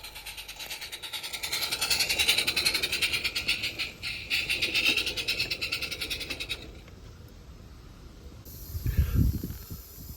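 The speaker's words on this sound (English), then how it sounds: "here we see the train just going up Fungal Bank for one last time" A garden-scale live steam freight train climbs a bank on an outdoor layout, its steady clattering and hissing running for most of the stretch, then giving way to quieter ambience with a brief low rumble near the end.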